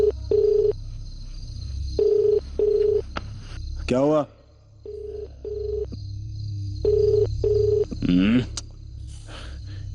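A telephone call goes unanswered: repeated ringback tones pulse in pairs over a low hum, with brief electronic warbles between rings, and a voice speaks once.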